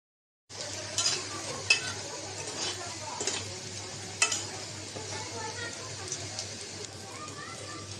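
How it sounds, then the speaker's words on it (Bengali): Water lily flower fritters sizzle steadily in a pan of hot oil, a continuous close crackle with a few sharper spatters, while faint voices murmur in the background. "বড়াগুলো বাজা হয়েছে এখন তুলে নেব"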